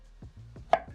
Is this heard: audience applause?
no